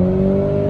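A car engine droning steadily at high revs as the driver accelerates, the rev limiter set around 6000 rpm, with a continuous close, loud tone and no talk.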